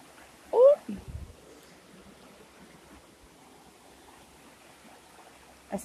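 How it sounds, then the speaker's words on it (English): A rock thrown by hand drops into a flowing stream with one brief splash near the start, over a steady wash of running water, and a voice is heard just before it. "Into the water you go, sparkly rock."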